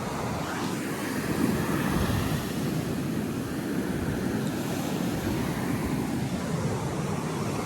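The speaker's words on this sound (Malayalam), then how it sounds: "എത്ര നേരം വേണമെങ്കിലും ഇവിടെ സമാധാനമായിട്ട് കടലിൻ്റെ ഒച്ചയും കേട്ടോടെ ഇരിക്കാം." Sea waves wash onto the shore in a steady, unbroken roar that stays fairly loud and even throughout, with no voices heard.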